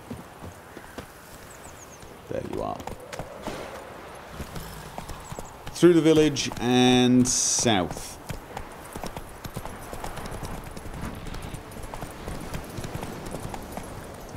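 Horse hooves clip-clop at a steady pace along a village road in The Witcher 3 video game, joined midway by a loud whinny, while someone speaks over the riding.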